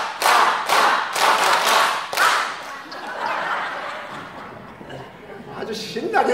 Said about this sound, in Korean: 자동 박수 10번 시작